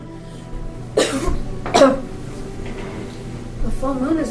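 A man coughs twice in sharp, close bursts about a second apart, followed later by a softer throat sound, with quiet talk faintly in the background.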